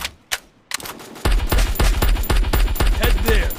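Rapid bursts of gunfire from a weapon in the game Free Fire: a couple of isolated shots, then a steady run of about a dozen close, loud cracks in quick rhythm.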